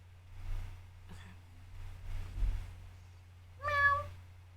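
A voice imitates a cat, giving a few short meows with a clear harmonic final call near the end, recorded at a distance over a low steady hum.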